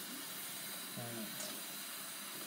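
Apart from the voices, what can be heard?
rinsing out a cup with running water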